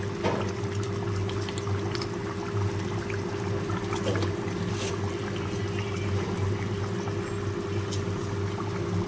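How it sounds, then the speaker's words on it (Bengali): Oil goes into a pan of chicken kosha mid-cook, raising a steady, close sizzling and bubbling hiss over a low hum that runs unbroken for about nine seconds, with no talking. "এবার আমি তেল দিয়ে দেবো।"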